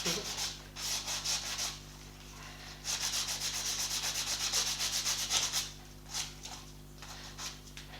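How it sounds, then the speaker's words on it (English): Light hand sanding of wood for a tissue-box ukulele in short back-and-forth bursts with pauses between strokes, over a low steady hum. "So just a light sanding to make sure there's no"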